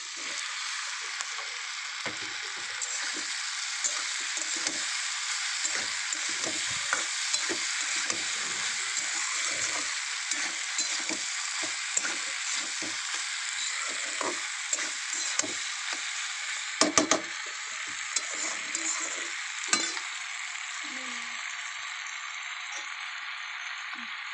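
Vegetables and pasta are stirred together in a frying pan for veg pasta, with a steady close sizzle and frequent scraping, rattling knocks of the utensil against the pan throughout.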